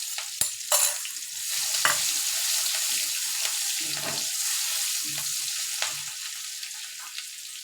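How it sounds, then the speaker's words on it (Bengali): Chopped onion frying in a pan, a steady moderate sizzle broken by several sharp clanks and scrapes of stirring. "পেঁয়াজ কুচিটা দিয়ে দেবো"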